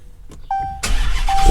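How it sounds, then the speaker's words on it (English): A Dodge Hellcat's engine cranks and fires in a garage during an oil change, a short starter whine followed by a loud, close roar that settles into a rumbling idle. "Fire up the car real quick."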